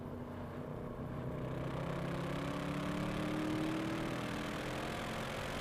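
A Mercedes C63 AMG engine running steadily on the Buddh International Circuit race track, a continuous mid-pitched drone at fairly even loudness with a gradual slight rise in pitch as it pulls.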